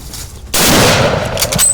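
A single loud rifle shot fired at an elephant during a hunt bursts out close by after a short quiet moment, its blast ringing and rolling away into the open bush.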